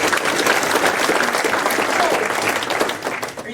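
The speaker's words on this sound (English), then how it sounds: "So another round of applause." An audience at a Dupont Club history talk breaks into another round of applause, loud, dense clapping that holds steady and then tapers off near the end.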